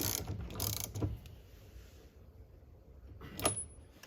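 Tightening a steering wheel hub on a 1991 Honda Beat during an NRG short hub and quick release install, with a few close, quiet metallic ratcheting clicks and tool handling sounds separated by near silence.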